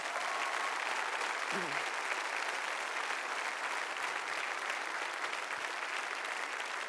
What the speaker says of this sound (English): Let's give a round of applause for what's happening at Albany.